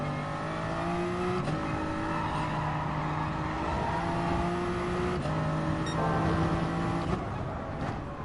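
Gr.3 race car engine in Gran Turismo Sport on the Interlagos circuit, Brazil, droning loudly at high revs. Several sharp gear shifts drop the pitch before it climbs again, with a faint tire squeal, and no talk over it.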